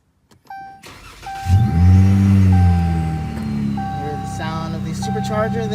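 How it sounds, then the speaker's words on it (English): A supercharged Dodge Challenger SXT V8 cranks and fires up nearby, settling into a loud, deep idle with a whine, while a steady warning chime pings repeatedly over it. "Supercharger there in the background. It sounds kind of like a jet."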